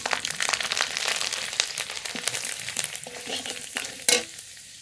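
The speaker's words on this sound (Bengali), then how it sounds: "এবার ফোড়ন করে নেব রাঁধুনি ফোড়ন রসুন গোটা রসুন" Radhuni seeds and whole garlic cloves crackle and spit in hot oil for tempering, a steady close sizzle broken by sharp pops and a louder burst near the end.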